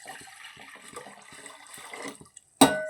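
Water is poured into a pot for Irani chai, a short trickling run that ends in a sudden louder splash near the end, with no talking.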